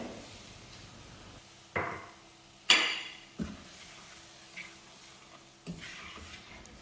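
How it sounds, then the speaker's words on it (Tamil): Milk being stirred into roasted semolina for aflatoon sweet produces a few distinct scraping strokes of a utensil against the pan, each a sharp attack that fades, over a quiet low background. "பால் சேர்த்துட்டு நல்லா கலந்து கொடுத்துடலாம்"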